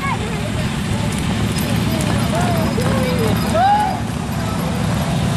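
Horses racing at a track in Lembah Kara, Dompu, Bima, their hoof clatter blending into a loud crowd roar with whistles and an announcer talking over it, swelling slightly near the end.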